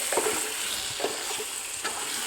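Chicken gravy being stirred in a pan, with soft scraping strokes over a steady low sizzle, close by and fairly quiet, with no talking.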